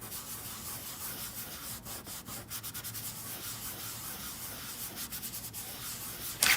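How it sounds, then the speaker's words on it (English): Steady soft rubbing of wax being worked over a wooden egg pedestal, a continuous close scuffing with a few brief sharper strokes and a small knock at the end. "I'm gonna go ahead and wax over this a little bit"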